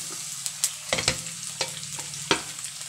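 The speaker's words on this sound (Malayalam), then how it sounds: "ഇതിലേക്ക് നമ്മൾ ഉണ്ടല്ലോ അരിഞ്ഞു വെച്ചിരിക്കുന്ന സവോള ചേർക്കുവാണ്." Chopped onion sizzling in hot oil in a pan while beef dry fry is cooked, a low steady frying hiss broken by several sharp stirring scrapes and clinks, close and fairly quiet.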